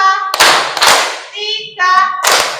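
Children in an Indonesian classroom clap in a counted pattern, sharp, loud group claps alternating with a chanting voice that calls out the count between them, the claps landing in small clusters.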